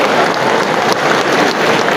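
An audience claps in a steady, dense round of applause, continuous and fairly loud throughout.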